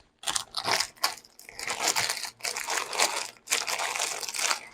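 Plastic bag holding a toy being torn open up close, a run of loud crinkling and ripping bursts with brief pauses between them.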